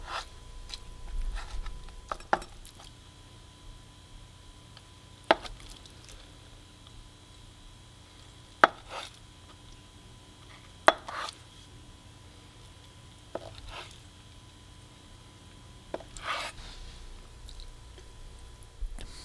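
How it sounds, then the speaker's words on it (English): A knife cutting a 16-ounce block of firm tofu into cubes on a board, giving a sparse series of soft, separate knocks and squishy cuts spaced a few seconds apart in a quiet room. "But I'm going to cut this into cubes."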